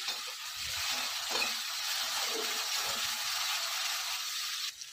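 Finely chopped tomatoes go into a hot frying pan with ground ginger, cumin and coriander paste, setting off a loud, continuous sizzle and hiss that holds steady for several seconds before cutting off.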